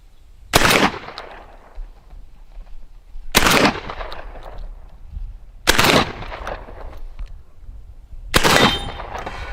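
Benelli M4 shotgun firing solid slug rounds outdoors: four loud, sharp blasts spaced a couple of seconds apart, each trailing off into a ringing echo.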